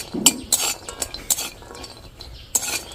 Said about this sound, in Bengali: ওই একই কড়াইয়ে আমি সাত আটটা কাজু বাদাম আর চার পাঁচটা কাঠ বাদাম নিয়েছি একটু শুকনো খোলায় নেড়ে নেব